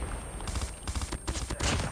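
Three-round M16 bursts in the mobile shooter Call of Duty Mobile, crackling in dense, rapid volleys that fill the whole stretch with sharp, loud reports and no talking.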